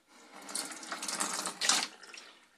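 Cold tap water runs briefly into a sink while rapa whelks from the Black Sea are cleaned, a close, hissing splash that swells and then tapers off after a couple of seconds.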